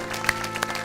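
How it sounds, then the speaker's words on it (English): Brief burst of audience clapping at a Sunday church service, a short patter of hands fairly close with no voices over it. "Please give these folks one more round of applause."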